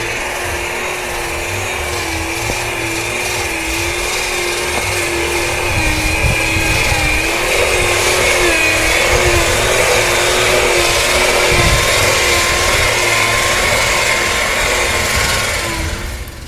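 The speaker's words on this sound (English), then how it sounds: "sanding off layers and layers and layers of old bottom paint" Power sanders grind old layers of bottom paint off a boat hull in a steady, loud, continuous whine with a droning hum, sustained without pause throughout.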